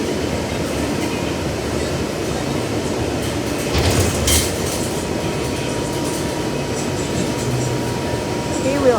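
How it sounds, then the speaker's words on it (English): PSTA SunRunner bus pulling into its stop, a steady loud rumbling drive noise with a brief squeal midway, heard from inside the vehicle. "Here we are arriving into our SunRunner stop."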